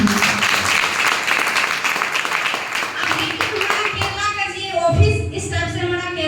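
An audience at a company event claps for the founder and co-founder, moderate applause running under a speaker's voice before fading into talk.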